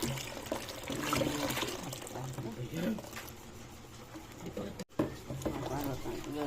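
Water pours and splashes into an ube ice candy mixture in a steady trickling stream, with a person talking over it and a brief cut near the end.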